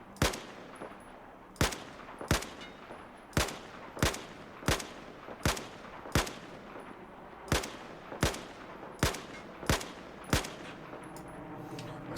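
Shots crack out one at a time at regular intervals on a Battlefield 4 test range, each sharp report followed by a short decay, fairly loud and steady over a quiet background.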